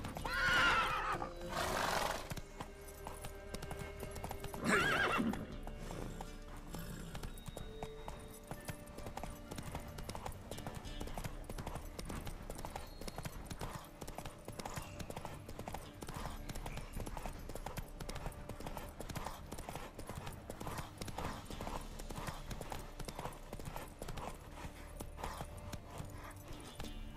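A horse named Roach in The Witcher 3 trots with steady rhythmic clip-clop hoofbeats and neighs loudly near the start, the hooves continuing evenly and close for the rest of the stretch.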